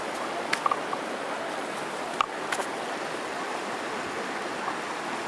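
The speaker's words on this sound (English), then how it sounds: "And that's the waterfall right there. Look at that waterfall." A waterfall in the woods rushes steadily as a constant, moderately loud wash of falling water, with a few faint clicks and knocks on top and no talk.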